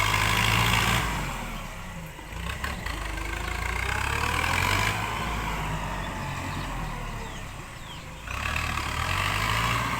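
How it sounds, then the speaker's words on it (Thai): A tractor engine runs steadily while pushing and levelling soil to prepare ground for an elephant shelter, a continuous mid-pitched rumble with mild surges, fairly close and without speech. "ต้องรีบหารถไถมา มาดันดินเอาไว้นะคะ"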